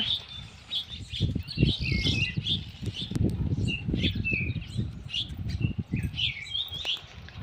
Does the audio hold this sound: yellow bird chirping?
yes